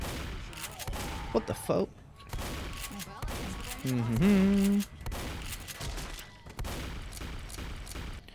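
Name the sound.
shotgun fire in the video game Left 4 Dead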